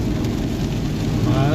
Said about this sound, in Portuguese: E realmente bastante chuva nesse momento.